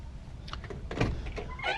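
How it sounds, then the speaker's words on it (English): Power windows run on a 1955 or 1956 Buick two-door hardtop: a short electric motor whir rises in a few quiet bursts close by, ending with the glass settling. "Power windows."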